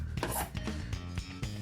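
Hand sanding of an acrylic plate fixed to a table for drypoint engraving, a quiet run of rhythmic rasping strokes, about six scrapes in quick succession.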